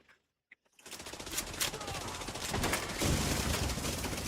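A machine gun turret in The Division 2 opens up after a near-silent start, pouring out a loud, continuous rapid-fire burst that grows heavier and keeps going to the end.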